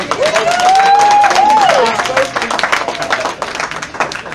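A crowd applauding at a fundraiser event, loud and dense at first, with a rising whistle or cheer cutting through early, then thinning into scattered clapping.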